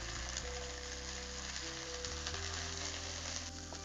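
Ginger garlic paste sizzling in hot oil while stirred for a bheja (brain) fry dish, a steady close crackling hiss with a low hum underneath and no talk.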